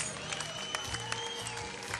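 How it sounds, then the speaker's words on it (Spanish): A crowd claps along to Peruvian folk music at a street parade, rhythmic hand claps over a tonal band melody that carries steadily throughout. "Vamos con las palmas, es el fondo musical para ellos."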